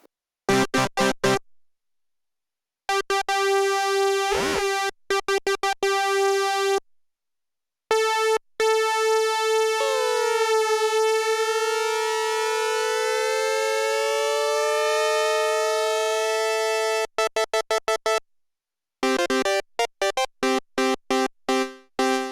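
UDO Super 6 synthesizer playing pad sounds, sustained bright harmonic tones with some pitch gliding, broken up by chopped stuttering bursts and short silent gaps.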